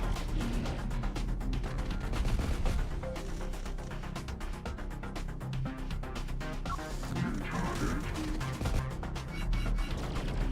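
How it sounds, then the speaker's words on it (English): Artillery fire in the video game Terminator: Dark Fate - Defiance: a loud, continuous battlefield din of thudding blasts and rattling gunfire that runs without a break, with no voices. "Oh, they got artillery coming in."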